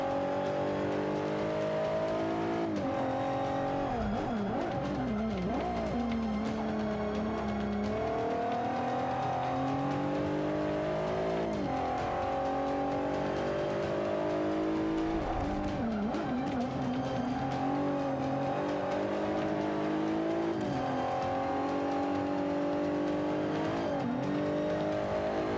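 A race car in Forza Motorsport 5 roars through gear changes, engine note climbing and dropping repeatedly with shifts, occasional tire squeal and skidding, loud and continuous with no talking.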